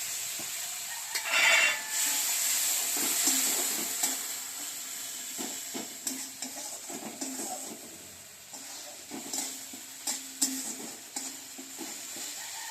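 Mustard, poppy seed and green chilli paste thinned with a little water simmers and sizzles in a pan for pomfret curry, with soft stirring scrapes and occasional utensil clinks, close and moderately quiet, no talking.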